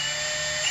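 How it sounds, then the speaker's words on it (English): Milwaukee 18-volt cordless drill running with its chuck closed, a steady high-pitched motor whine held constant for a brief moment, close and loud. "if you close the chuck up, tighten it up, run it down"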